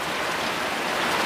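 Rain falls steadily in a dense, even hiss that fills the whole moment, loud and close with no gaps or voices.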